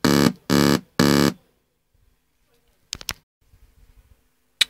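Three loud, harsh buzzing tones from a CMOS hex Schmitt trigger synthesizer circuit in quick succession, each about a third of a second, followed by quiet clicks and faint handling noise.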